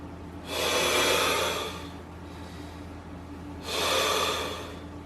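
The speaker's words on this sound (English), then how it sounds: "you are going to take in a deep breath through the nose or the mouth if you can't do the nose yet. Exhale as you come down." Slow, deep yoga breaths through the nose or mouth, two long audible exhales or inhales separated by a quieter pause, close and fairly loud with no talking.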